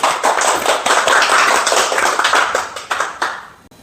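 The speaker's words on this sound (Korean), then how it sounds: "우리 박수 한번" A Korean health-lecture audience claps together for a few seconds, a dense, close patter of many hands that tapers off toward the end.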